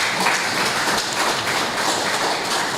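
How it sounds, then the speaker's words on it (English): Audience applause at a sustainable agriculture certificate ceremony, a dense, steady patter of many hands clapping together without a break, fairly close and even throughout. "So give yourselves a round of applause."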